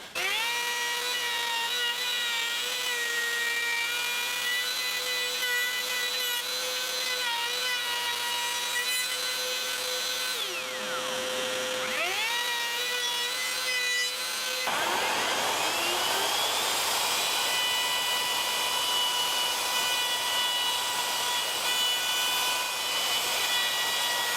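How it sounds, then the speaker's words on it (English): A router fitted with a dovetail bit cuts an angle into wood for a Telecaster guitar body, a loud continuous high whine with harmonic tones that dips and surges midway, close and with no talking. "I've used my dovetail bit in the router to just route out a bit of an angle there"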